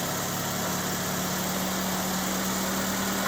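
Fuel pump running on a 1929 Ford Model A roadster pickup during a revival attempt, a steady, unbroken mechanical hum and buzz with a constant drone, heard close and alone without voices.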